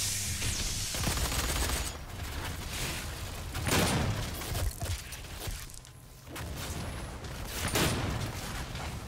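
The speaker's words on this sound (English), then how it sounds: "This shotgun's so slow." Repeated shotgun blasts in a DOOM team deathmatch online multiplayer match, loud booming shots spaced a second or two apart over constant game noise and background clatter.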